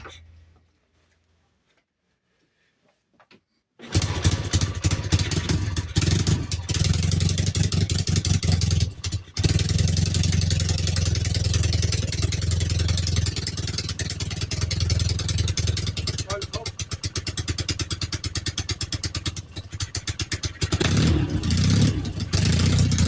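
An engine cold-starts after the ticklers and choke are set: a few seconds of silence, then it catches and runs loud and steady, with a rough throbbing idle and brief dips close by.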